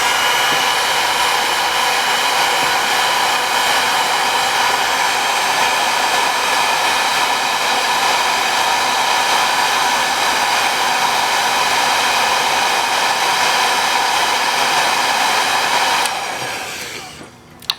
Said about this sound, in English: you'll need to heat it up first. If you have like a heater gun or a blower or anything